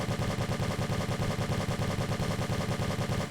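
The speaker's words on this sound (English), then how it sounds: "we're ready for the final recoil test for the assault weapons, the standard IM-1G" IM-1G assault rifle firing in the video game One Armed Robber, a continuous rapid-fire burst of heavy, booming shots in fast, steady rhythm throughout, loud and close with no talking.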